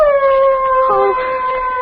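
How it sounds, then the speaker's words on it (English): A dog gives a single long, sustained howl, close and loud, wavering slightly in pitch as it holds steady through the moment. "Oh. A dog."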